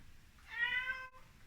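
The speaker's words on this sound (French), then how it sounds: "C'est le chat qui répond." A cat gives a single clear meow indoors, short and tonal, fairly faint and alone against a quiet background.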